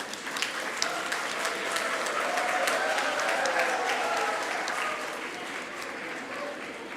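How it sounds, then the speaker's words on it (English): A hall full of people gives graduating engineering students a sustained round of applause at a graduation ceremony, steady dense clapping that softens a little after five seconds. "Let us give all our graduates a big round of applause."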